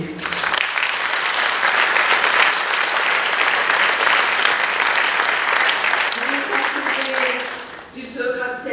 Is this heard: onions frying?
no